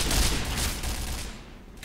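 Rapid bursts of gunfire from Point Blank crackle loud and close in a dense volley that slowly fades over about two seconds.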